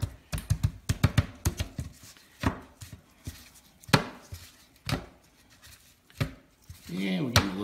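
Smoked chicken leg quarters are flipped on a Santa Maria-style wood-fire grill, making a series of sharp metallic clicks and scrapes, quick at first and then more spaced out, with a sizzling swell at the end.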